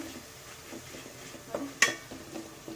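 Egg rice masala frying in oil as a spoon stirs it, a soft sizzle under scraping strokes and one sharp clink of metal against the pan.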